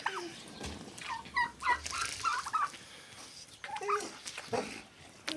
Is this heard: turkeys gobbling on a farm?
yes